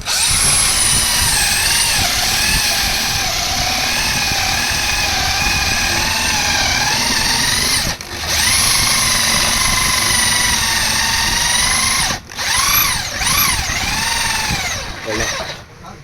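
A loud electric drill whines continuously at high speed, briefly stopping and restarting, its pitch rising and falling as the bit works, while working on a Yamaha RX100 motorcycle rpm meter gear.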